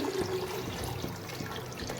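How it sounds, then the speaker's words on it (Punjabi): Water is poured into a pan for white chickpea curry after the tempering, a steady splashing gush with no talk over it. "ਪਾਈਏ ਪਾਣੀ"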